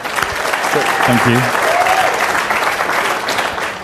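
A lively round of applause from an audience, loud and continuous from start to finish, with a voice briefly offering thanks over the clapping.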